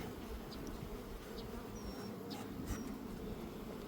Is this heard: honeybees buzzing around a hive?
yes